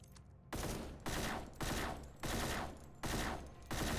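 In The AMC Squad shooter, gunfire strikes an enemy with partial resistance and triggers a hit sound. Seven loud, evenly spaced bursts each ring out and decay, with no voices over them.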